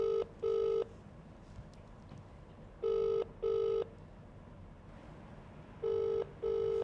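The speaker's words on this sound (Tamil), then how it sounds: "ஃபோன்" A telephone rings in three pairs of sharp electronic double rings, spaced about every three seconds, over a soft steady background with no talk.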